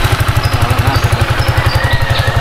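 A motorcycle engine idles nearby with a steady, loud, rhythmic chugging pulse, its exhaust beats evenly repeating throughout with faint higher background noise above.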